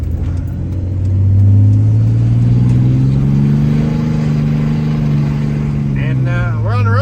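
A Dodge car drives along a road with a steady, loud low engine drone that swells and holds, tonal hum throughout, with a short voice near the end.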